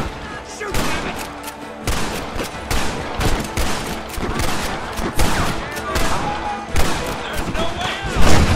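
Rapid gunfire in the Red Dead Redemption video game, dense volleys of loud close shots and thuds crackling continuously, with voices shouting over the battle.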